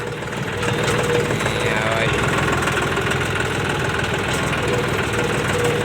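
The diesel engine of a 5310 combine harvester runs steadily close by on a rough rural track, a constant throbbing drone with mechanical rattle and vibration; someone talks over it.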